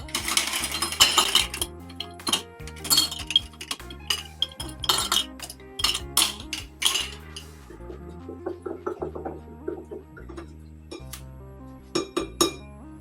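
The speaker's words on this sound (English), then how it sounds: "Add some ice." Ice cubes drop into a glass for a yellow watermelon and pineapple juice summer drink, making a run of bright, close clinks and knocks that thin out over several seconds above soft background music.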